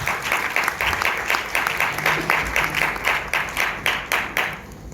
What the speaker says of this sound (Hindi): बहुत सी तालियां सलीम साहब के लिए।